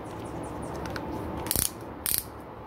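Two short ratcheting clicks come from the chuck being removed from a Black and Decker 18V Firestorm cordless drill, close and crisp against a quiet room hiss.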